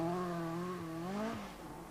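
A 1980s rally car on non-studded tyres, with a brief, close engine note whose harmonic pitch holds and then sags as the revs fall away.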